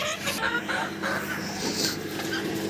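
Backyard poultry cluck and call steadily throughout while being fed an autumn mash of grated apples, pears, zucchini and mashed boiled potato. A rooster or hens sound close and fairly loud, with no talk over them.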